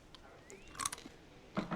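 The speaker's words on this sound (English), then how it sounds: "Oh, hear that crunch?" Faint crunching of a salty snack mix with pretzels and cheese bites, a couple of short crisp bites spaced apart over quiet room tone, with no talking.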